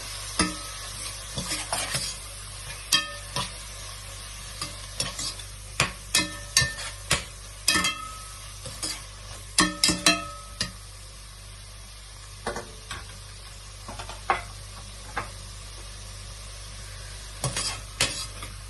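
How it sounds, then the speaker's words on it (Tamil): Prawns stirred and fried in ginger garlic paste with mint and coriander for prawn biryani, steady low sizzle broken by frequent sharp metallic scrapes and taps of the ladle against the pan, clustered in bursts, close and without speech. "இந்த இஞ்சி பூண்டுல ப்ரான் நல்லா கிளறணும்."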